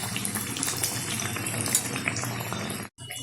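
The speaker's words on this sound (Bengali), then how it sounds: "গজাগুলো কিন্তু এই যে ছাড়ার পর এই যে সুন্দরভাবে ভেজে নিচ্ছি" Bihari khaja pastries, also called gaja, fry in hot oil with a continuous bubbling sizzle and light metallic clinks close by. The sound cuts out briefly near the end.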